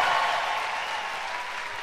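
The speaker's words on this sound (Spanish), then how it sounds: "Un aplauso para ellos" Concert audience claps in a dense, continuous burst at a live Christian music show in Phoenix, Arizona, loud at first and slowly easing off over two seconds.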